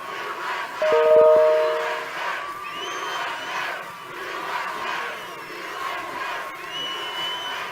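Large outdoor crowd at a Trump campaign rally in Bullhead City, Arizona, cheering and shouting continuously, loudest early on, with whoops and a steady roar throughout and a brief horn-like tone near the start.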